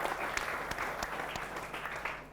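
A short burst of applause from an audience at a school gathering of teachers in Palembang, moderately distant and dense, with sharper individual claps standing out.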